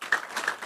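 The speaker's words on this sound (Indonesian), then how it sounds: "Tepuk tangan untuk PAN." A crowd applauding for PAN at a political gathering, a brief burst of dense, overlapping hand claps heard at moderate volume.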